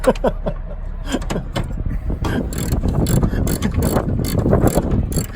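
Socket wrench ratcheting during repair work on an MCI MC5a bus, several quick bursts of clicking in a busy garage, close and fairly loud.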